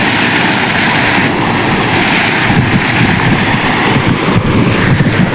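River water flowing near a village, a loud continuous rushing wash heavily buffeted by wind on the microphone, steady throughout with no voices.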